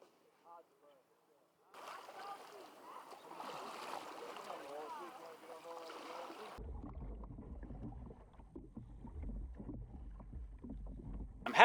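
A loaded kayak set into the water before an overnight paddling trip, with splashing and sloshing water and the hull knocking and scraping, followed by a low rumble of wind noise on the microphone.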